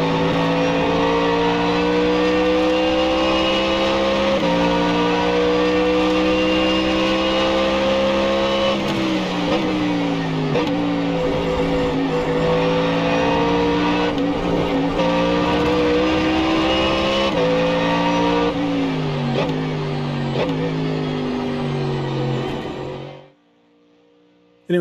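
A Ford Mustang GT3 race car in the iRacing game at the Sachsenring circuit roars continuously, its engine note rising through the gears and dropping on downshifts for corners, loud and close, then cutting out near the end.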